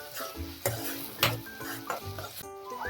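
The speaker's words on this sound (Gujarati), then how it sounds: "ડુંગળીને એકદમ સરસ ગોલ્ડન બ્રાઉન કલરની આપણે થવા દઈશું" Finely chopped onion fries in a pan toward golden brown, sizzling steadily as a spoon stirs it with repeated scraping strokes and a few metallic clinks against the pan.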